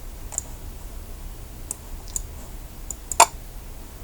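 Sparse clicks from a computer keyboard and mouse while searching a pattern gallery, a few light isolated taps spread out with one sharper double click near the end, over a quiet room.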